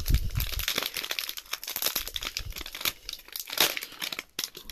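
A Bikkuriman sticker pack is torn open by hand, a dense continuous crinkling and ripping of thin foil wrapper heard close up for several seconds with no talking.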